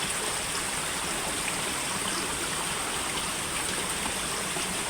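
Water flows in a stream beside a hole at a treasure-hunting dig site, a steady close rushing and trickling wash with no breaks and no talk.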